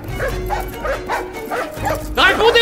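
Dogs barking and yelping in a period crime drama scene, a series of loud, rhythmic barks with whimpering, over a steady low background rumble and a fuller burst of barking near the end.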